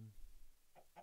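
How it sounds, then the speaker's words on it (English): Chickens clucking in the video game Minecraft, two short clucks near the end of a quiet second, following a low rumble at the very start. "Oh yeah, I've got chickens there now."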